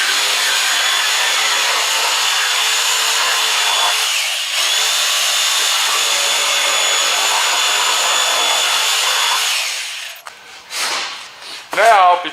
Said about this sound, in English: I'm going to take my jigsaw, and I'm going to trim approximately 3/4 of an inch off.